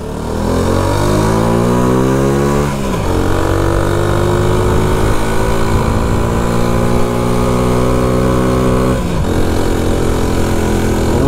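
A Shineray 50cc motorcycle engine revs steadily during a delivery ride, loud and close, its pitch climbing and dropping as the rider shifts gears, with no talking.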